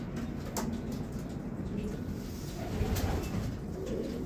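Racing pigeons coo softly in the background, low throaty calls over a steady outdoor hum.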